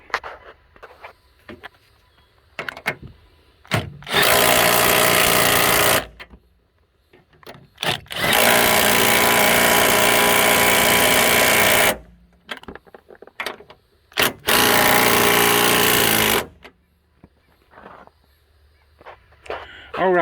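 Power tool tightening 13 mm strut bolts while installing Monroe Quick-Struts, three loud sustained bursts of a few seconds each, separated by quieter clinks and handling noise.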